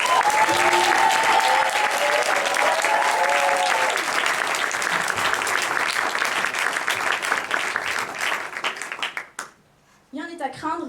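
Applause and cheering from a French-speaking audience at a speaking contest, dense and sustained for about nine seconds, with a voice riding over the clapping at the start, before it dies away and a speaker begins.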